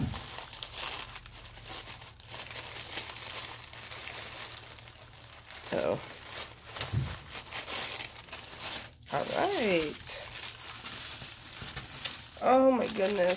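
Tissue paper crinkles and rustles as a wrapped handmade gift is opened, with soft intermittent crackles across the whole stretch and a voice talking over it.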